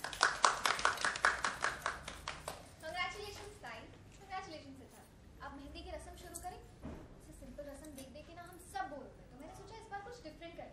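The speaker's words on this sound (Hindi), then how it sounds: "तालियां" Applause on the set of a Hindi TV serial during a mehendi ceremony scene, a burst of brisk hand clapping that fades under lively chatter and voices talking.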